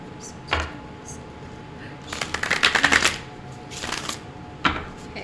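Tarot cards are shuffled in quick rippling bursts, a dense run of riffling flicks in the middle with a few single card snaps before and after, close and fairly quiet.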